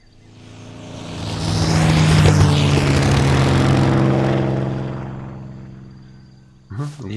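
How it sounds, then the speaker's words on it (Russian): An-2 biplane, the kukuruznik, a propeller aircraft in an indie horror video game, droning loudly as it swells in, passes close overhead and fades away over several seconds, followed by a brief short noise at the end. "Блять, это кукурузник, чувак, ты чё?"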